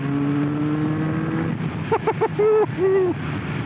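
A Kawasaki ZRX1200R motorcycle engine hums steadily while riding, its pitch sliding gently downward before a few quick throttle blips and short revs punctuate the run.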